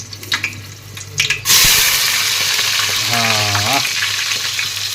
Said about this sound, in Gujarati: તો આપણે અંદર નાખી દઈએ ડુંગળી.